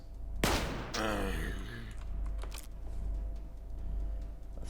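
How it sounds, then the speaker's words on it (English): Pistol shots ring out in the sci-fi RPG Stellar Tactics: a couple of sharp cracks close together at the start, then a fainter report, over a low ambient hum. "Let's change back and fire at this guy."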